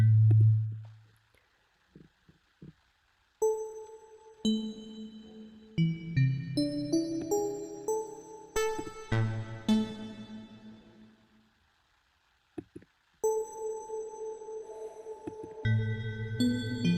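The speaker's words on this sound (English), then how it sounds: "Let's go with the spatial effects. These here are sick too. Infinity reverb." Synthesizer notes played through an infinity reverb spatial effect: sustained tonal chords and melodic lines ring out with long, swelling tails that bloom and decay, separated by short silent gaps, with no talking over them.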